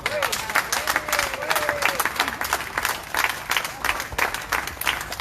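An audience applauds steadily at a public address about medical authorities, with dense, continuous clapping and voices calling out over it.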